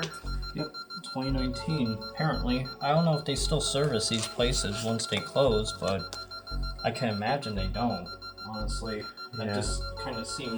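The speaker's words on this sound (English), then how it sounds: "Sorry about the annoying beeping, guys. I guess it's coming from the security system." A security system in an abandoned mall emits a persistent high electronic beep, a thin steady tone running throughout beneath continuous nearby talking.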